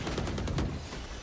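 In a Valorant match at a professional esports tournament, a quick burst of automatic gunfire rattles out as a rapid string of sharp shots over a short moment.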